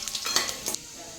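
Cumin, mustard seeds and garlic hitting hot oil in a kadhai, giving a few quick bursts of close, bright sizzling and spluttering that then fade to quiet.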